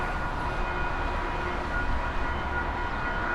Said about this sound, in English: here comes the socialist train.